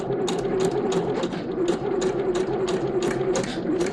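A sewing machine slowly stitches a hem along a fabric edge, a steady mid-pitched motor hum with regular rhythmic needle ticks repeating throughout, close and moderately loud with no talking.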